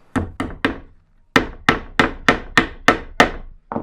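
Hammer blows drive small clips onto wire strung across a light fixture built from old pallet wood: three quick strikes, a short pause, then a steady run of six sharp hits and the start of another, close and loud.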